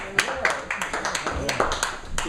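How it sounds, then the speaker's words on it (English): Audience applause at a poetry open mic in an Austin bar: a small crowd claps in quick, uneven bursts, close and moderately loud, mixed with chatter and talking. "So let's have the round of applause for Headhunter Thom."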